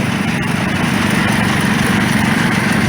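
A 1968 John Deere 112 garden tractor runs in an old engine show parade, its small engine putting out a steady, loud, close chugging drone with an even low throb.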